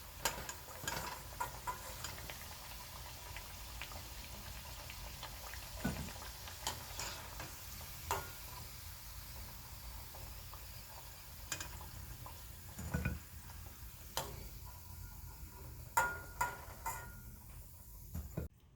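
Vada fritters for vada curry shallow-fry in oil rather than deep-frying, a faint, steady sizzle and crackle, broken by occasional clicks and taps of a utensil against the pan, with no talking.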